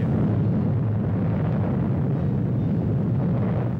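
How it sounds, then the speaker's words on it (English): A deep, sustained rumble from the Mike hydrogen bomb test explosion at the Pacific Proving Ground in 1952, rolling continuously at steady loudness with no break, no talk, and no sharp onset. "Mike, the first so-called hydrogen bomb, is test-fired"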